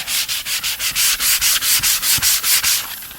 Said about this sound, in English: I always take a leftover piece of sandpaper, double it over,